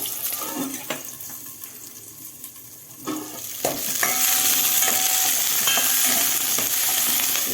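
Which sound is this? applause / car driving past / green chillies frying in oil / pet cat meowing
green chillies frying in oil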